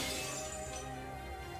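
Caliburn, the golden sword from the Fate/stay night visual novel, shattering: a single bright, glassy burst of breaking with a ringing, shimmering tail that lingers.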